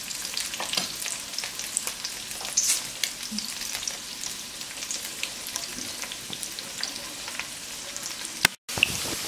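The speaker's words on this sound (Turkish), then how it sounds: "Bir de bunları kızartıyorum." Potatoes sizzle and crackle steadily in a frying pan, a continuous close bright fry with scattered pops, cooked as a side for Galician-style octopus; a brief dropout near the end.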